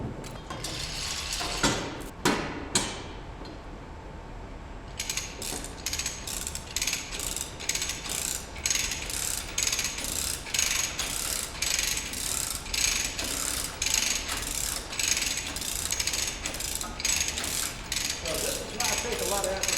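A VEVOR 3/4 ton (1650 lb) manual lever chain hoist ratchets steadily in a shop, a long run of rapid, even clicks after a few heavier clunks at the start, close and fairly loud with no talking.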